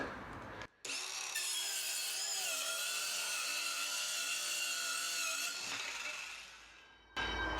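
A cordless circular saw rips straight through 18mm hardwood plywood in one continuous, loud high-pitched whine that holds steady for several seconds, then winds down and stops.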